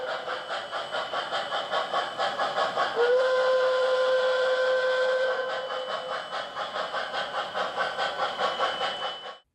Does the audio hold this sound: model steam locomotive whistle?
yes